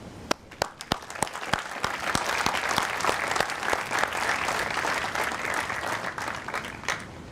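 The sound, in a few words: audience applauding the 2024 graduating class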